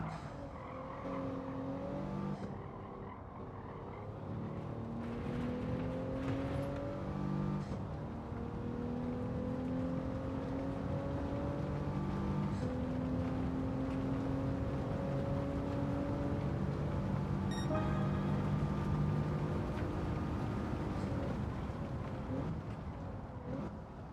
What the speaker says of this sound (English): Car sounds like it's raining when you're running along the track.